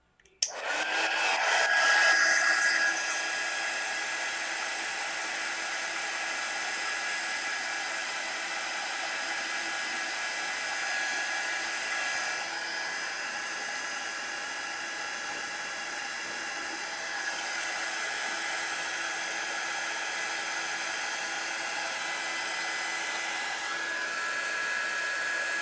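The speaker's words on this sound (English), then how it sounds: "I'm going to turn the heat gun on this real quick." A heat gun runs close and steady, blasting hot air to blister old paint. It kicks on with a brief click, then holds a loud, even whooshing whine with a faint tonal edge for the rest of the time.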